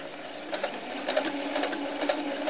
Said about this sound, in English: Follow the fabric and go sew all the way around the outside.